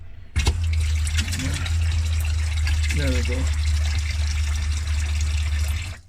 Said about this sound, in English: Sink pump is on.